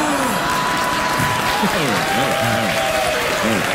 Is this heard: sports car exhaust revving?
no